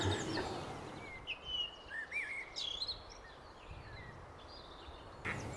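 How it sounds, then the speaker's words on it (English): Birds sing and chirp in misty hills along a canal, several bright warbling calls repeating at a moderate distance over a quiet background, with no talking. "I'm so in love with bird song."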